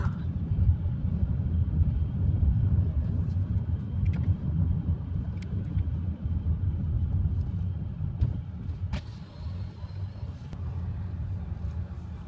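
Car engine and road rumble heard from inside the vehicle while driving onto the wooded grounds of the Vizcaya estate in Florida, a steady low drone with a few faint clicks and no talk.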